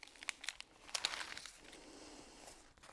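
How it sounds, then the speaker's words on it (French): Paper backing is peeled off Heat and Bond fusible web ironed onto fabric, giving close, soft crinkling and tearing with a few sharper crackles near the start, then fading to a quiet rustle. "Voilà comment ça s'enlève, le Heat and Bond."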